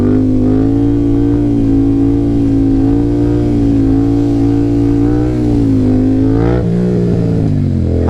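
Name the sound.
FZ-07 motorcycle accelerating in second gear for a wheelie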